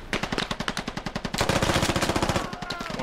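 Machine gun fire in the Squad military shooter game, a rapid, even stream of sharp close shots, first in a short spaced run, then a denser continuous burst with faint distant rounds mixed in.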